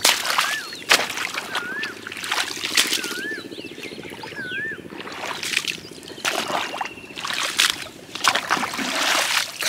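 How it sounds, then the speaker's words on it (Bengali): Rainwater drains from a flooded rice field into a canal, a continuous rushing wash with a few louder splashy bursts, while birds chirp repeatedly over it. "কাকা খালে তো অনেক পানি নামবা লাগছে"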